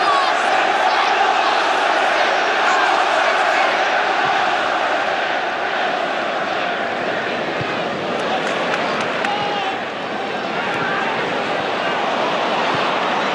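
A football stadium crowd at Manchester City versus Arsenal roars and chants in a dense, sustained wall of voices that never lets up, with a commentator talking over it.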